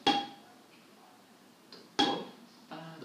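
A kitchen pan struck as a percussion instrument in a batuque rhythm gives two sharp metallic clangs about two seconds apart, each ringing briefly, with softer knocks between them in a quiet room.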